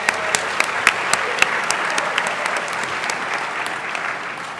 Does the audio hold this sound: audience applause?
yes